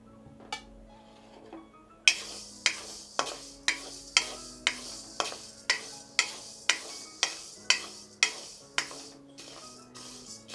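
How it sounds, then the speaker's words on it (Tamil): Horse gram dry roasting in a pan, stirred in a steady rhythm: after a quiet start, a run of about fifteen regular scraping strokes with dry grain rattling, close and fairly loud, with no talk. "அடுத்து கொள்ளு வறுத்துக்கலாம்"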